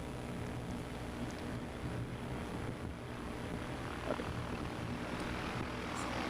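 Propeller aircraft at STOL practice during the Moses Lake airshow, a faint, steady distant engine drone droning on continuously with a broad low rumble.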